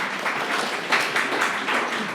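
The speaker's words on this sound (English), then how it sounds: "Yes, that deserves applause." An audience at a panel of Indigenous artists breaks into dense, steady applause, a continuous wash of many hands clapping at moderate volume with no voices over it.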